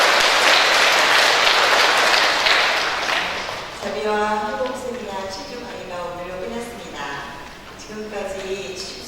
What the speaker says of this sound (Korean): 김태광 신부님께 감사의 큰 박수 다시 한번